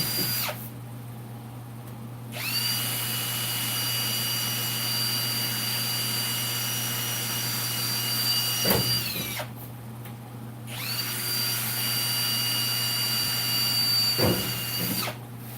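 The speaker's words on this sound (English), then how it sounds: "So I'm just drilling holes all the way around so I can plug weld these on" Power drill boring holes through a car's body panel for plug welds: a loud, close, high whine held for several seconds at a time, with brief drops between holes and bites into the metal.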